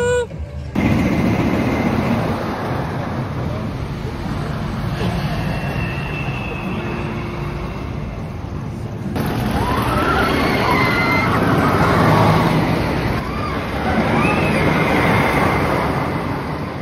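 Wicker Man, a wooden roller coaster at Alton Towers, rumbling and clattering along its track, a loud continuous roar that swells and changes as the train passes, with riders' voices mixed in.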